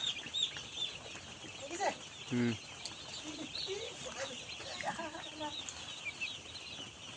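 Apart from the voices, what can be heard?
chickens clucking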